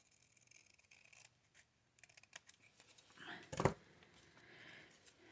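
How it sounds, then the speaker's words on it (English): Scissors snip through paper in fussy, detailed cutting for a craft project: soft, faint scratchy cuts, then one sharper, louder snip near the end, with no talking. "I find when I'm doing straight lines, I use the bigger scissors."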